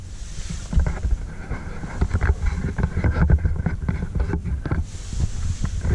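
A 1967 Valmet-Schlieren traction elevator in a residential building at Tornitie 4, Myllykoski, hums and rumbles low during a ride, with soft clunks and rattles from the car.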